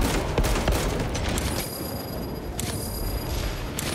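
Grenade blast and heavy combat in Warhammer 40K: Space Marine 2, a dense, loud wall of booming rumble and crackling gunfire that holds for the whole span without a clear single burst.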